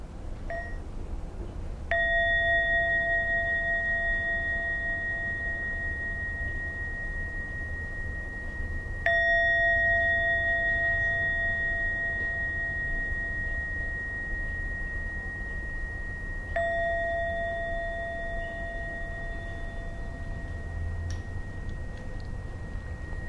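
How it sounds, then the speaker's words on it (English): Three clear meditation bell strikes, evenly spaced several seconds apart, each ringing out with a long pure tone that slowly fades over a soft background hiss. "Let's listen to 3 sounds of the bell."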